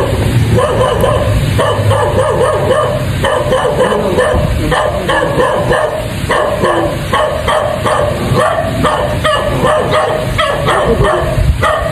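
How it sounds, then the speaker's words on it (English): A dog barks and yips repeatedly through a loud, busy outdoor scene near a bridge and muddy ground, with a steady rhythm of barks over constant background noise. "Ayan si Doggy"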